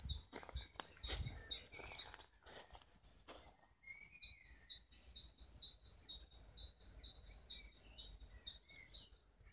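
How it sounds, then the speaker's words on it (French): Birds singing outdoors, repeated high chirping phrases in a steady pattern, with some rustling and handling noise at the start. "ça fait tellement du bien d'entendre les oiseaux de nouveau"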